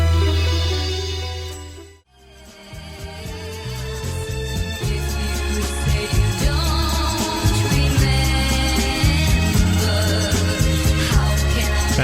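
A song on FM radio, beginning after a brief fade and playing full and loud with steady music and vocals.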